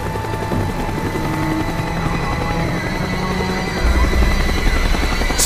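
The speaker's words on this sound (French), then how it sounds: "L'hélico revient par ici." A helicopter in Call of Duty Black Ops beats steadily overhead with a loud rotor drone that swells heavier near the end, heard alone with no speech.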